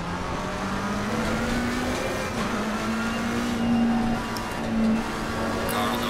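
Race car engine in Assetto Corsa Competizione, a racing video game: a continuous loud engine drone with slowly shifting pitch as cars run close together on track, no talking.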